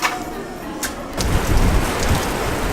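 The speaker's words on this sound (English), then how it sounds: "The wind and rain is crazy." Heavy rain and gusting wind roar outside a hardware store, a dense hiss that thickens into a louder, fuller downpour partway through, with no talk.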